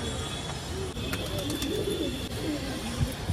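A fancy pigeon, a young Siraji, takes off and flies nearby, with soft wing flutters and cooing over steady outdoor background noise, no talk.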